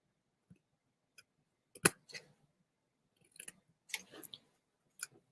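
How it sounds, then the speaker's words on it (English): Scissors snipping card or paper into tabs for a small box, a few crisp cuts spread across the moment, the loudest near the start and a cluster toward the end, close and quiet with no talking. "So I'm just trimming this up, creating the tabs for the box, the bottom box."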